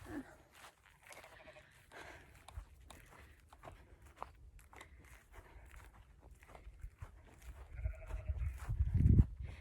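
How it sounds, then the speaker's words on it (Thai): Sheep bleat several times at close range in the English countryside on a hot day, mixed with footsteps and shuffling movement, with a louder bleat and rustle toward the end. "เพื่อนๆดูแกะ"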